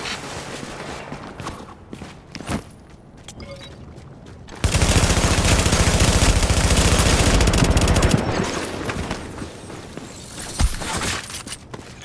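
Sustained video game gunfire at a fortification: scattered single shots and distant pops, then a loud continuous machine-gun barrage lasting several seconds before easing back to sporadic shots.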